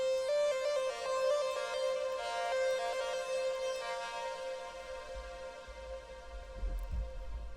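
Bright synth lead for a 2hollis-style type beat, playing a sustained, harmonically rich melodic line with reverb and slight distortion, loud and steady with no voices.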